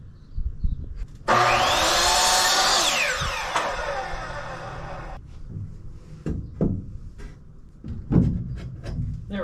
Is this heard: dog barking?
no